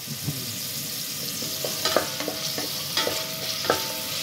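Pork, already boiled and fried, being sautéed and stirred in a pan for crispy pork humba: a steady hiss of frying with repeated scraping and clinking stirs, close and moderately loud, no talking.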